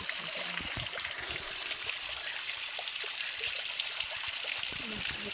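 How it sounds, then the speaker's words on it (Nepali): Water pours steadily from the Satdhare stone spouts, which now run from only two outlets, making a continuous splashing trickle heard up close with faint wind and outdoor background. "अहिले चाहिँ 2 धारामा मात्रै सीमित छ।"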